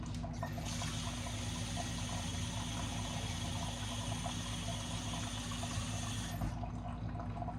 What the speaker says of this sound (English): while we're waiting for the coffee to be done